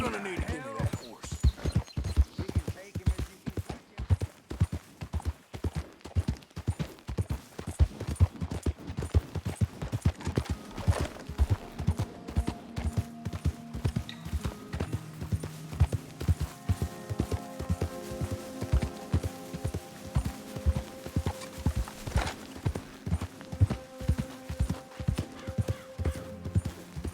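Steady, rhythmic hoof clip-clops from a horse in the video game Red Dead Redemption 2, continuous throughout, with music and voices playing underneath.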